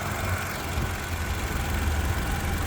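A 2017 Toyota Camry SE with a 2.5 liter 4-cylinder engine idling, a steady low rumble that holds evenly throughout, close by and alone.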